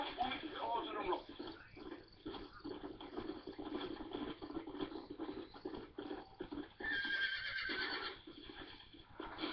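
A horse whinnies and hooves clip-clop over a low bed of ambient sound in the Western video game Red Dead Redemption, the whinny standing out clearly near the end at moderate, fairly quiet level.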